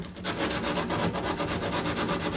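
Sandpaper rubs back and forth on the corner of body filler on a 1969 Corvette C3, cutting a groove with dense, rapid rasping strokes that stay close and loud throughout.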